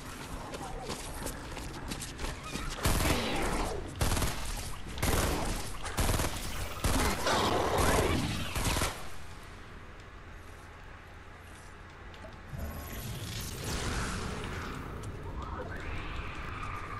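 Rapid bursts of gunfire in a video game, loud and dense at first, then dropping to quieter background noise before a few more shots and game sounds follow.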